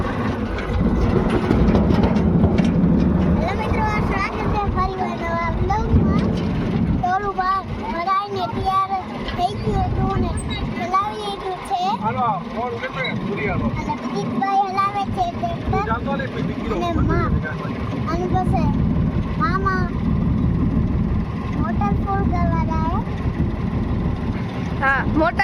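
A farm tractor engine runs with a steady droning chug during groundnut harvest work, holding at a fairly close, even level throughout while people talk over it.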